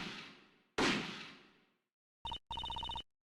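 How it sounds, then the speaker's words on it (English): Two sharp gunshots from the Ace Attorney Investigations 2 video game ring out close together, each with a long fading tail, then a quick run of bright electronic beeps follows. "Alright, 2 gunshots, you heard it there."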